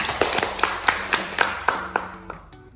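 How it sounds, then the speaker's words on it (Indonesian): A small classroom group claps in a quick, uneven burst of distinct hand claps during a religious studies lesson, close and fairly loud, tapering off over a few seconds. "beri tepuk tangannya"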